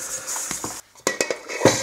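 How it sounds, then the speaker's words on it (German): A whisk clatters against a bowl while mixing a cream cheese mixture, a short run of clinking taps with a brief pause in the middle. "Jetzt das Ganze vermengen. Entweder mit der Maschine oder mit dem Schneebesen."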